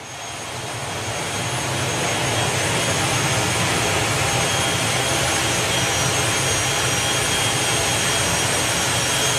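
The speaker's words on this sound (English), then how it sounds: "So they're winding up the turbines. I can only tell that because I can hear them." Jet dragster turbines winding up at a drag racing festival, a loud, steady roaring whine with a high hissing edge that swells over the first two seconds and then holds at full intensity.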